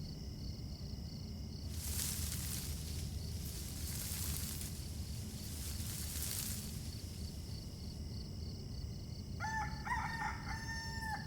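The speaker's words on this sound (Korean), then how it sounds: "왕부에서 시간을 알리는 닭이 울었으니" A rooster crows twice or three times in the game Love and Deepspace, bright and moderately distant, over a steady background hum with insect-like chirps. A short electronic chime sequence follows near the end, with no speech.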